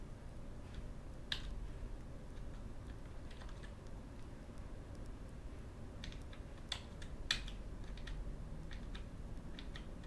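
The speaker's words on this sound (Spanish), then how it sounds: "Apretamos la tecla hacia la izquierda del teclado." The left arrow key on a computer keyboard is tapped repeatedly in a quiet room, sharp faint clicks arriving singly and in quick clusters with pauses between.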